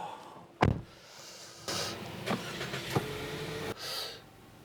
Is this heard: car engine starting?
yes